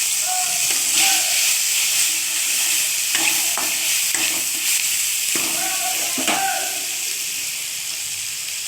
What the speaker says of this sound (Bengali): পেঁয়াজটা তুলে দিলাম মাছের ভাজার তেলে